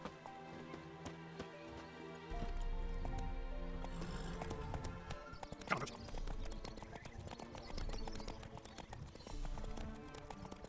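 In the video game Witcher 3, a horse's hooves clip-clop in a steady rhythmic gait that grows louder partway through and keeps going at a moderate distance.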